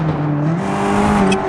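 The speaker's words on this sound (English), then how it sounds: "What's gonna happen if we just head straight forward at full throttle" Car in the BeamNG driving game accelerating at full throttle in a tunnel, a loud engine drone climbing steadily in pitch through the gears, with a brief whine near the end.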